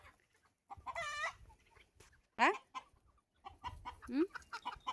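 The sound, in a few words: black hen clucking while chased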